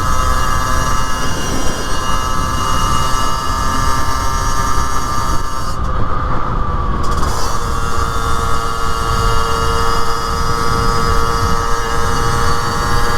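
A 2023 Rieju Trophy MRT50 moped engine runs while riding, a steady, fairly loud buzzing drone mixed with constant wind rush, holding an even pitch throughout with no talk.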